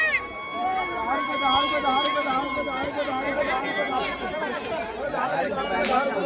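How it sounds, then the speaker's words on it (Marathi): A huge crowd chattering at the Mhasa village fair in Maharashtra, a dense continuous babble of many voices with a few clear voices and whistles cutting through, close and loud. "इकडं गर्दी बघा तुफान गर्दी आहे इकडं पालना गर्दी एकदम मजबूत आहे जाम गर्दी"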